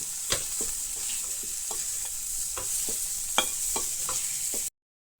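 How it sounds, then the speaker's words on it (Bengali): Continuous sizzling of ground sesame paste frying in a pan, with a few sharp scraping clicks from a spoon stirring at irregular intervals; no talking. "এটা একটু ভেজে নিতে হবে"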